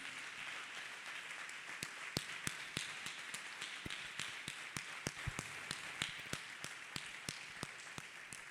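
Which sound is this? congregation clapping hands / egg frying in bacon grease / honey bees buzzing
congregation clapping hands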